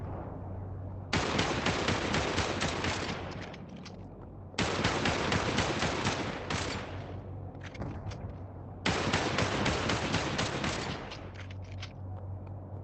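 A 1911 pistol with a blue steel finish fires in the Population One video game, in three loud, long strings of rapid shots separated by brief pauses.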